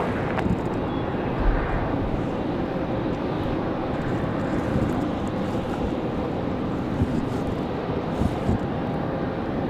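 An Air France Boeing Dreamliner jet arriving at Raleigh-Durham airport on a windy day, a loud continuous broadband engine roar heard from the spotting area, steady throughout with wind buffeting the microphone.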